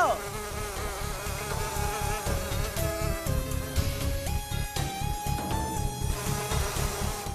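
Insects drone and whine in a dense, steady buzz that stays loud and close, mixed with a rhythmic background music track and gliding tones, with no voices.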